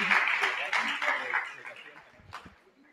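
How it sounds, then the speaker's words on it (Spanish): Church congregation clapping for God during a Spanish-language worship service, a dense burst of hand claps and cheering that is strongest at the start and thins out toward the end, with voices mixed in. "Démosle un aplauso a Dios por ellos."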